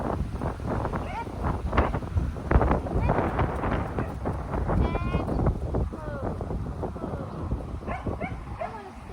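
Strong wind gusts roar across an open outdoor area around a horse and rider, a steady broadband rush filling the whole stretch under intermittent speech and occasional animal or movement sounds.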